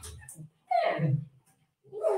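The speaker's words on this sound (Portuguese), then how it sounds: "Desculpa só o cachorro aqui." A dog barks indoors in two short loud bursts with a brief yelp between, close to the microphone, breaking into a pause in a lecturer's talk.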